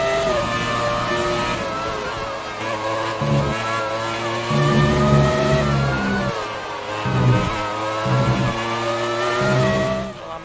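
A McLaren Formula 1 car races in the F1 2019 video game, its engine whining loudly and steadily. The pitch rises and falls through gear changes and revs, with other cars' engines mixed in.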